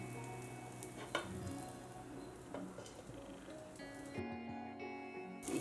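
Foxtail millet (navane) paddu frying in a covered paddu pan makes a steady, soft sizzle and crackle, close but quiet, with a few faint clicks of the lid or pan.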